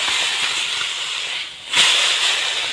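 Morola fish being flipped in a pan of kalmi greens curry, a steady close sizzling hiss that briefly drops away and then flares back louder as the fish lands.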